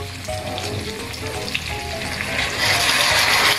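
Lechon belly pork sizzles loudly as it fries and is stirred in a pan for sweet paksiw, a steady crackling hiss that swells louder toward the end, with no talking.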